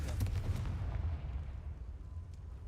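A Confringo fire spell blast in the Hogwarts Legacy video game booms with a heavy low-frequency explosion that rumbles and decays over a few seconds, loud and close, with no talking.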